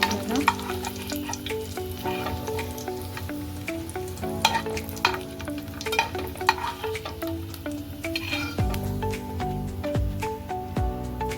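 Garlic frying in the same oil left in the pan after frying bombil fish, a loud, continuous sizzle with crackling pops and stirring clatter close by, alongside tonal hum, with no talk.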